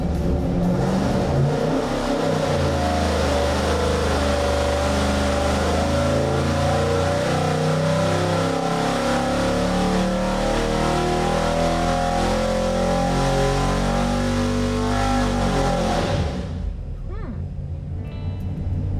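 Two big-block engines coupled together on a dynamometer, roaring through a sustained full-throttle pull with rising pitch, loud and close, then cutting off abruptly near the end.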